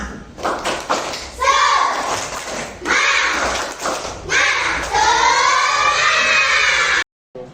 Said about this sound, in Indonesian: Ayo tepuk semangat semua.